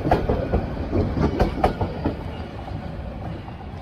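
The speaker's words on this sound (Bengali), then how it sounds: "পৌঁছে গেছি সীতাকুণ্ড স্টেশন। এই আমার পিছনে ট্রেন চলে যাচ্ছে" A train rolls through Sitakunda railway station in a loud, close rumble of clattering wheels and sharp metallic clanks, easing slightly toward the end.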